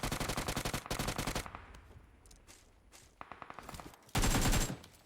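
Automatic gunfire in PUBG Mobile 4.0: a rapid, sharp burst of shots that lasts over a second, a few isolated cracks after a quieter pause, then another short, loud, rapid burst near the end.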